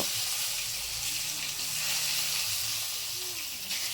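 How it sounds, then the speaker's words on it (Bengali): Pointed gourds (potol) frying in hot oil in a pan, a steady close hiss with no pauses, the crackle running evenly under the whole stretch with no voices. "কালকের জন্য এগুলো খুব জরুরি তেল দিয়ে বেশ ভালো করে ভেজে রান্না করা বেগুনটা বেশ ভালো করে তেলে ভেজে নিয়েছি এবারে পটলগুলো ভেজে নেব"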